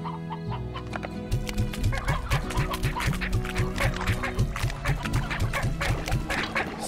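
Chickens clucking in the game Slime Rancher, a busy, steady run of close, rhythmic clucks and squawks from several birds over ambient game music.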